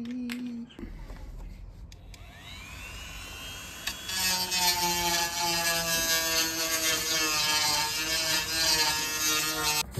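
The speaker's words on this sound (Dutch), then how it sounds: "Even polijsten." A drainpipe fitting being polished with a power tool gives a loud, steady high-pitched whine that shifts pitch, with a brief pause near the start before it runs on continuously.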